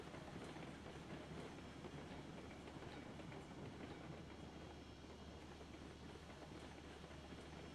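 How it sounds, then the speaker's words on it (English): A long freight train in the railway game Railroads Online rolls steadily along the track, a continuous low rumble with faint clickety-clack and wheel noise, carrying on without pause. "This is a long train."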